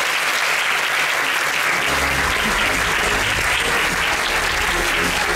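A crowd at the Monaco Magic 2023 opening ceremony claps loudly and steadily, a dense, sustained wash of applause with no voices standing out.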